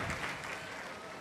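A congregation at a Catholic Holy Mass during the Mariamabad pilgrimage claps steadily, a dense, even wash of applause at moderate distance with no break over its short length.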